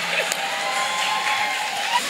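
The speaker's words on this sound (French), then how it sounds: "Acclamation. Clap." A church congregation cheers and claps in acclamation during a deliverance service, a steady wash of crowd voices and applause filling the whole moment, fairly loud and close, with no single voice standing out.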